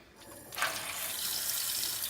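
Tap water runs steadily from a kitchen faucet into a measuring cup, a soft rushing stream that starts abruptly and continues alone at close range.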